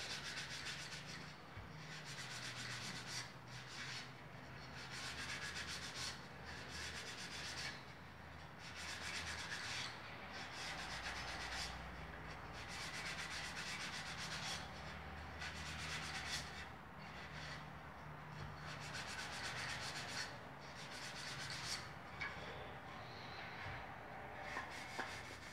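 A Scotch-Brite pad is rubbed over the coated surface of an urn, making a continuous close scrubbing sound in fast, repeated strokes that runs without a break and with no speech.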